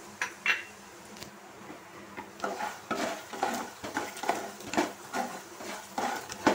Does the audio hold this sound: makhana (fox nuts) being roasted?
yes